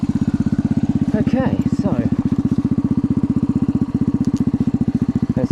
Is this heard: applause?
no